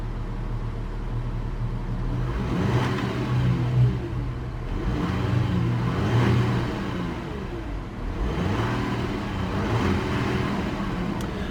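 2011 Volkswagen Touareg 3.0 V6 TDI diesel engine running close by, a steady low rumble rising in several repeated rev swells and falling back to idle, loud and without talk.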